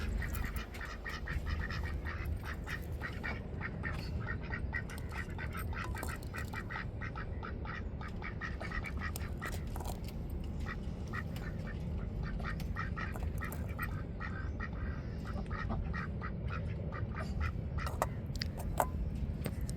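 Continuous, overlapping quacking from three female ducks nearby, a busy rhythmic chorus running the whole time with no pauses or speech.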